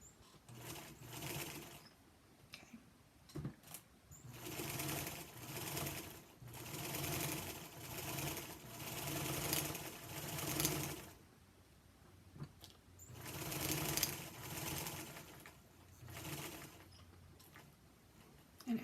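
A Featherweight sewing machine runs at a single fast speed, stitching in several long, close bursts of rapid whirring and clatter separated by brief pauses, with no talking.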